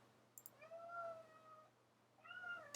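A house cat meows loudly twice, each call a long drawn-out wail, heard close by in a quiet room.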